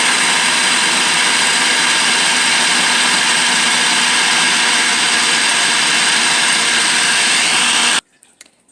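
A food processor whirs steadily at low speed, blending green seasoning with olive oil, loud and continuous for about eight seconds before cutting off abruptly, leaving faint clatter.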